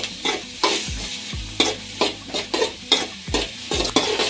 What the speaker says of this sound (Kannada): ಇದನ್ನು ಹಾಕಿ ಟೊಮೊಟೊ ಸಾಫ್ಟ್ ಆಗೋ ಗಂಟ ಫ್ರೈ ಮಾಡ್ಕೋಬೇಕು.